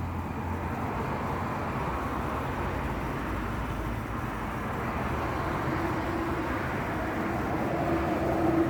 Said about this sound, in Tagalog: May railroad dyan, oh. Madaan dyan ang train.